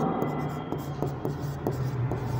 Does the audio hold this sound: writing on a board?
yes